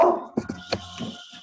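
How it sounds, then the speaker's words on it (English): A pet dog gives a few short barks and yips indoors during an online meeting, close and brief, three or four quick sounds in a row. "I'm sorry, that was my dog barking."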